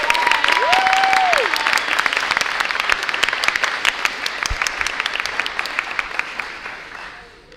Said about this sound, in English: So can we give them all one more round of applause?